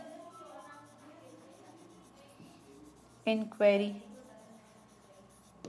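Pen writing on paper, soft rubbing strokes across a quiet stretch, with a voice briefly speaking partway through.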